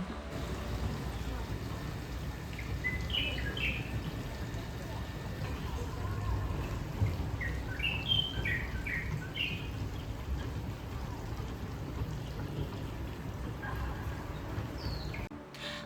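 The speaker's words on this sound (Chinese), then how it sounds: "可是你听得到很多鸟叫声和流水声。" At a modern Buddhist temple in a Taiwanese city, scattered bird chirps and calls ring out over a steady low rush of flowing water, with the birds brief and mid-distance.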